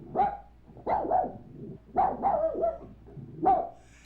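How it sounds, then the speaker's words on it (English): A dog barks indoors in a series of four sharp, close barks, some doubled, spaced roughly a second apart with quiet gaps between them and no talk. "Is the dog gonna bark throughout the entire video?"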